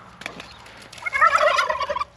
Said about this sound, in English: Those turkeys aren't quite sure about it.